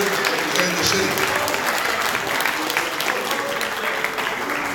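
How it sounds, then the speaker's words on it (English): Steady applause from a debate audience at the Corner Pocket for city council recall candidates and the incumbent, dense loud clapping sustained for several seconds without pause. "How about a big round of applause for the wonderful candidates and the incumbent that is here representing the city."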